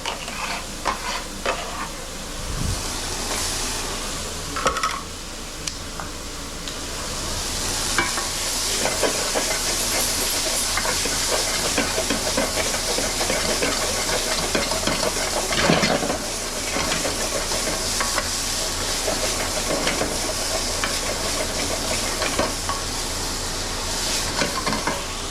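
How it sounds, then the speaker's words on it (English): Shallots and apple sautéing in a pan over moderate heat, a loud continuous sizzle broken by occasional stirring scrapes and clinks, with no talk. "Put the pan back over moderate heat here. Shallots, soften them gently."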